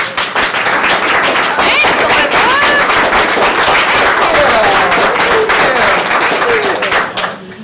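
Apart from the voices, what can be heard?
audience applause and clapping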